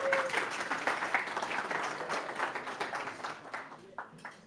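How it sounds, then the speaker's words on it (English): An audience applauds at a Solana Cypherpunk demo day in Berlin, a dense, steady wash of many hands clapping close by that carries on for several seconds before thinning out toward the end. "please give a warm round of applause to TEDx"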